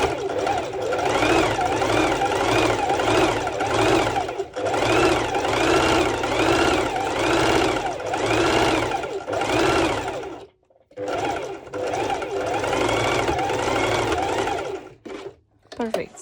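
A sewing machine runs a parallel line of stitching on a lettuce-edge ruffled scrunchie, a loud steady motor whir in long bursts with brief pauses between runs.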